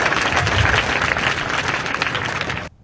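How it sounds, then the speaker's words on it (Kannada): Loud crowd applause at a political speech, dense and continuous clapping that holds steady for over two seconds before cutting off abruptly. "ಒಂದು ಚಪ್ಪಾಳೆ ಹೊಡಿದ್ರು ನೋಡೋಣ."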